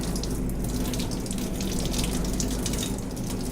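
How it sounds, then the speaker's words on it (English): Steady rush of running tap water rinsing a Blodgett BCP combi oven filter in a sink, continuous and close, with no talking. "and then you rinse it right off."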